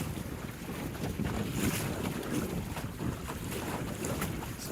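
A Welsford Navigator sailboat moves through open water on a Northern Minnesota lake, with steady rushing wind buffeting the microphone and a soft wash of water against the hull, continuous and fairly loud throughout.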